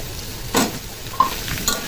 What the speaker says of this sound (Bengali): আলুটাকে পেঁয়াজের সাথে একটু ভেজে নেবো